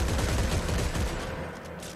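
Burst-fire weapon in Dead Space 3 rattling off a dense, loud volley of rapid shots that fades out toward the end of the brief moment.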